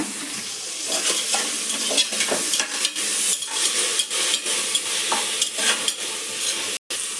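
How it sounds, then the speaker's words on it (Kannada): Chopped dill leaves stir-fry in a pan for a hotel-style pulao, a loud close sizzle broken by rapid, rhythmic scraping and tapping of a spoon against the pan, with no talking. "ಈಗ ಸಬ್ಬಸ್ಗೆ ಹಾಕ್ಕೊಂಡು ಒಂದು 2 ನಿಮಿಷ ಫ್ರೈ ಮಾಡ್ಕೊಳ್ಳೋಣ"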